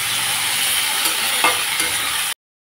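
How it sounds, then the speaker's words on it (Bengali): Chopped jackfruit and potato, dusted with turmeric and salt, sizzle steadily in hot oil with a bright continuous hiss and a few soft stirring scrapes, ending abruptly. "কাঁঠাল আলু ভেজে নিলাম।"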